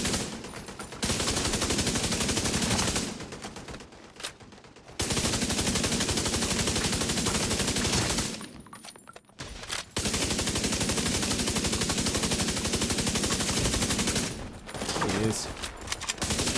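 Rapid automatic gunfire from The Division 2 in a casual PvE session with a high-crit build, sustained bursts loud and close, broken by a few short pauses.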